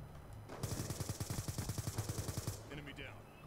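Rapid burst of gunfire from a pistol-style shotgun in the shooter game Black Ops 2, about twenty close, loud evenly spaced shots over roughly two seconds, framed by quieter game ambience before and after.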